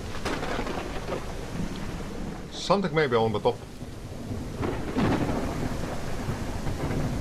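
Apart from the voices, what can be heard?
rain and thunder in the video game Mist Survival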